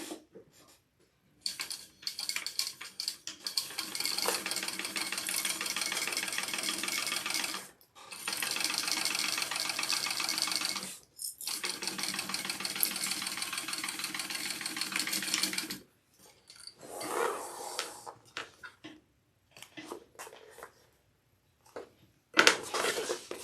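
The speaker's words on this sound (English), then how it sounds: "now I'm going to sew the other side the same way" A sewing machine stitches a garment seam at close range. Its fast, even motor whir comes in several long runs of a few seconds each, broken by pauses and then shorter bursts near the end, with no talking.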